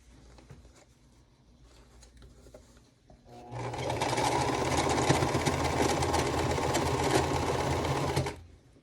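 A sewing machine stitches a quilt block. Scattered handling clicks come first, then the motor runs in a loud, steady whir for about five seconds before stopping.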